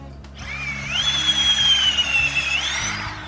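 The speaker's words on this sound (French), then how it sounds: "je perce avec une légère pente montante intérieure" Power drill boring a tap hole into a sugar maple trunk: a single close whine that rises in pitch, holds steady for about two seconds, then winds down.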